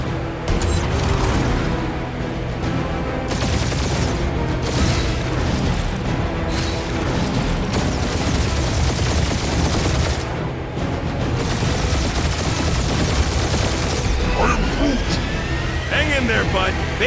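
Gunfire and booming blasts from a combat scene in the video game Marvel's Guardians of the Galaxy, a dense, continuous barrage of shots and explosions with mechanical clatter, loud throughout and mixed under talking voices.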